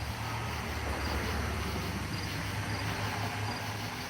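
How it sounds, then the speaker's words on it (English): Crickets chirp steadily through a warm night with frogs mixed in, a continuous dense insect chorus over a low rumble that sounds like distant road traffic, no one talking. "you can hear the crickets, the frogs."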